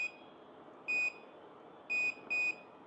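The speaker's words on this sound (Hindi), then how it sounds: "अभी जब ये फास्ट बीप करेगी तो हम अपने हेयर्स को भी इससे निकाल लेंगे" An automatic hair curler gives off electronic beeps at irregular intervals, four short clear tones, quiet and close with no talking.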